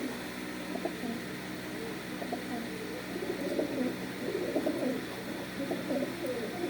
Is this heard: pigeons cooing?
yes